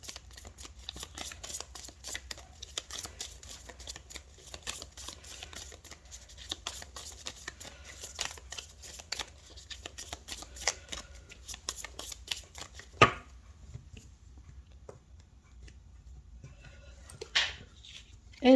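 Oracle cards being shuffled by hand, a steady papery riffle and rustle running for most of the stretch, then stopping, with a few sharp taps and card flicks afterward in near quiet.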